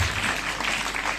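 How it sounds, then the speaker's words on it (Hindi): An audience at a school prize-giving ceremony in Kansar Bada Gaon, Sirmaur, Himachal claps for students in a dense, steady burst of applause lasting about a second. "जोरदार तालियां बजाइए इनके लिए।"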